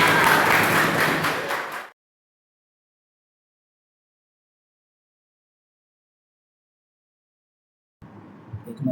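A classroom of students bursts into a short, lively round of clapping for a group, a dense close burst lasting about two seconds that cuts off abruptly into silence before faint room sounds return.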